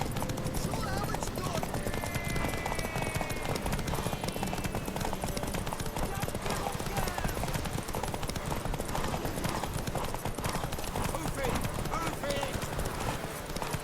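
Steady clip-clop of horse hooves trotting along in The Witcher 3: Wild Hunt, continuous and fairly close, mixed with ambient game sounds and voices talking over it.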